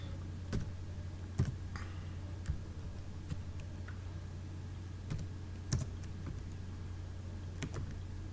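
Typing on a computer keyboard in a quiet room, sparse individual key clicks and a few heavier taps spread irregularly over a steady low hum, faint and alone with no voices.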